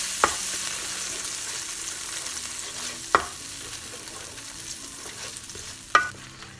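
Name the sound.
stirring tomatoes cooking in pan for kabab curry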